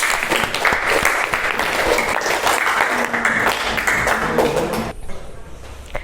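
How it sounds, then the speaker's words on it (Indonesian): An audience in a classroom or small hall applauds a performer with loud, dense clapping and scattered sharp individual claps, the sound thinning and dropping abruptly near the end. "Beri tepuk tangan untuk Mbak Belinda"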